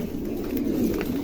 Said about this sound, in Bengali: এই কবুতরগুলো কিন্তু রেয়ার